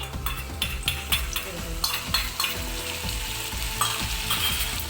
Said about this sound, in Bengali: রসুনটাকে ভালো করে ভেজে নিতে হবে